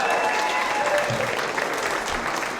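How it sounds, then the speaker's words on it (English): An audience applauds a performer at a variety show stream-a-thon, a steady, dense wash of clapping filling the room throughout. "Give another round of applause for Iris."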